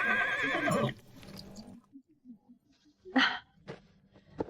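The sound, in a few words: horse neighing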